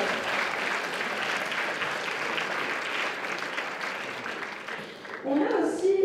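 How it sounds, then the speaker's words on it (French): A crowd at a cosplay competition during a Japan convention gives steady applause that runs for several seconds, then fades as a voice starts speaking near the end. "Donc, merci à Bernina, on peut les applaudir quand même."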